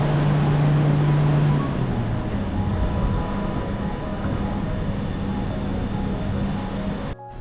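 An Øresund train bound for Denmark rumbles steadily in Malmö, a loud continuous rail roar with a faint tonal hum that fades out near the end.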